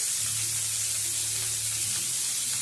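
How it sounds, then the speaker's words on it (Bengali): Chopped onions fry in hot mustard oil, giving off a steady, even sizzle that holds close and constant from start to finish with no voices. "সর্ষের তেলটা গরম হয়ে গেলে দিয়ে দিচ্ছি পেঁয়াজ কুচি। পেঁয়াজ কুচিটা একটু ভেজে নেব।"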